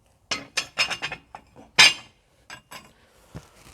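Metal rings lifted off the cooking top of a manqal grill one after another, giving a run of sharp, close metallic clinks and clanks with short gaps between them.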